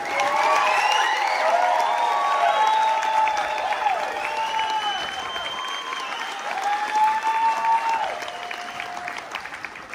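A crowd at a gathering in Hawaii applauds and cheers, with whoops and shouts over steady clapping that swells and dips throughout.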